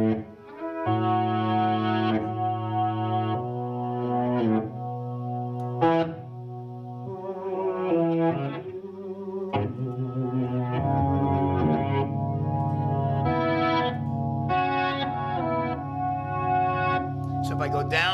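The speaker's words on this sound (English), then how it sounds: "there's one that makes a guitar sound backwards" Electric guitar through a reverse effect pedal, sustained distorted chords whose swelling attacks make each note sound played backwards, with pauses between phrases and a voice talking over parts.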